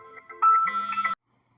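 A phone ringtone for an incoming call plays as a short electronic melody of bright beeping tones, then grows louder and fuller before cutting off abruptly into silence.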